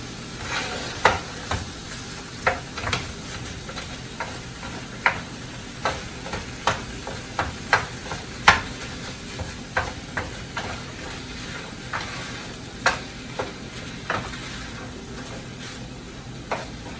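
Ground beef and onions sizzle steadily as they fry in a pan, with a string of sharp clicks and scrapes from stirring over the continuous hiss.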